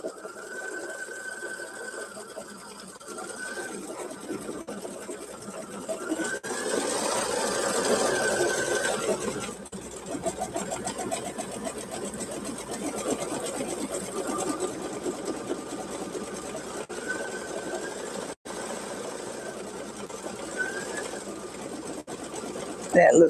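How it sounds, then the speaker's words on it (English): A Luminaire embroidery machine stitches a stippling pattern, giving a steady rapid mechanical hum and needle chatter that runs the whole time with small shifts in pace, and people talk quietly underneath. "on the Luminaire we do have where you can go in and do stippling yourself or have the machine to do it."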